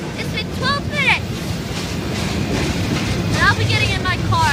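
An Amtrak train passes through Greenville station, a steady loud rumble of wheels on rail with a horn sounding in two short bursts, near and continuous under faint voices.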